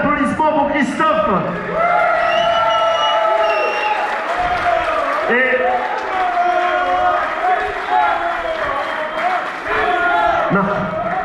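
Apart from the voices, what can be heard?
audience applause at concert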